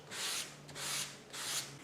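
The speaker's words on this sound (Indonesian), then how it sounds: "Ini kita amplas pakai amplas 400." Teak wood is hand-sanded with 400-grit sandpaper in three even back-and-forth strokes, a soft, close rasping rub with short pauses between passes.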